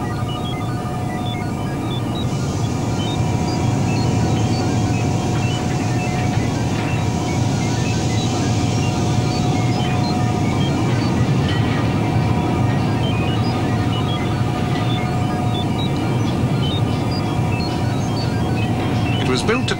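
A maglev train produces a steady, smooth mechanical hum with a faint high whine, like a vehicle gliding past at a distance, continuous and even throughout.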